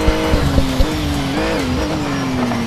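Porsche race car engine in Need for Speed Shift, racing at the Spa GP track, a loud steady drone that rises and dips through gear changes, with brief tire squeals.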